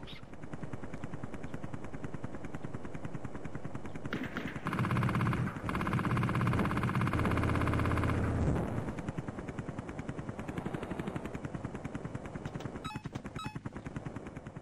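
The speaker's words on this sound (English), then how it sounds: "In Zeewolf we only have 3 weapons. We have the chain gun" Rapid chain gun fire from a helicopter in the Amiga game Zeewolf, a loud sustained burst of rattling shots over a steady engine drone, then a few scattered single shots later.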